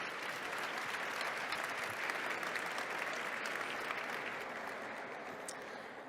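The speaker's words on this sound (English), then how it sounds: "please give them a warm round of applause" A conference audience breaks into a steady, dense round of applause, a sustained wash of many hands clapping that holds level before tapering slightly toward the end, with no talk over it.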